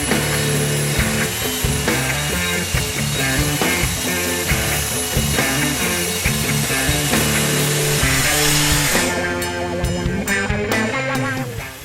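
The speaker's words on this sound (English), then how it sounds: "I pull the saw back again, and without moving the track, and I'll pass the saw" A track saw makes a clean-up pass along a board of wood, its motor roaring loud and steady with a harsh, grinding cutting edge throughout, then winding down at the end; no one speaks.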